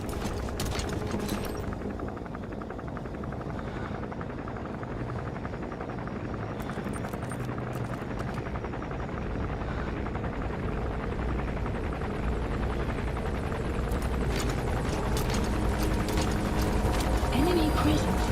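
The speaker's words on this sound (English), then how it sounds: "That's an enemy gunship" Enemy gunship helicopter in Metal Gear Solid V: The Phantom Pain, a steady loud rotor drone filling the scene throughout, with mechanical clatter and bursts of noise layered on top.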